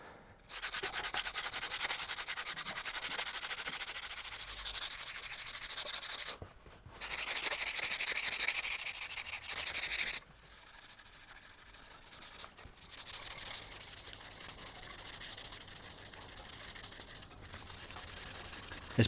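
Hand sanding of a repaired carbon fiber bicycle frame, long rasping strokes of sandpaper with brief pauses between passes, close and loud with no talk.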